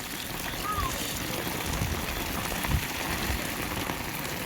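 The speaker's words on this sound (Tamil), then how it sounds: "அந்தளவுக்கு மழை, ஏன்னா விடாமல் பெய்யுது" Continuous rain falls in a dense, even patter, splashing close by with no letup.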